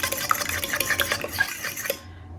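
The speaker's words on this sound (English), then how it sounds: "I am just gonna whisk my egg in my little melted butter here real quick" Quick clinking and stirring of a whisk beating an egg into melted butter in a small bowl, steady and close with bright metallic ticks throughout, no voices.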